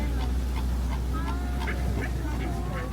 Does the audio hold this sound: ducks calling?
yes